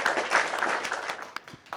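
Audience applause for a director, a dense patter of many hands clapping that thins toward the end, leaving a few separate claps near the close.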